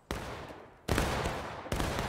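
A Civil War battle reenactment rifle volley: three sharp, loud crashes of massed musket fire, each followed by a rolling, echoing rumble that carries into the next.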